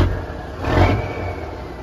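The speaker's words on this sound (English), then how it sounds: "So I let him jump up in there and start it and mash on the throttle a little bit." A 1985 Peterbilt 359 truck engine idles, then the throttle is pressed briefly and it revs up in a short close swell before settling back to a steady rumble.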